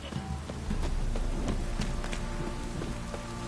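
Steady rain in the video game Witcher 3 pattering on surfaces with scattered distinct drops, a constant close hiss filling the scene without speech.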